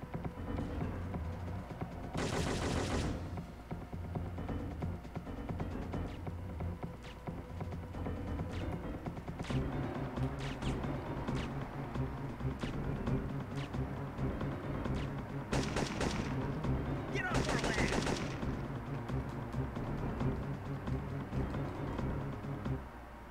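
Gunfire in the video game Syphon Filter 3: sustained rapid bursts of shots over a dense, steady game soundscape, with a few louder, brighter blasts standing out, no talk.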